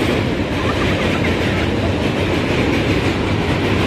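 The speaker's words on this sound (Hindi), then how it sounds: "दो ट्रेन एक साथ।" Two trains rolling together across an old bridge over a river, a loud, steady rumble and clatter of wheels that fills the whole clip up close.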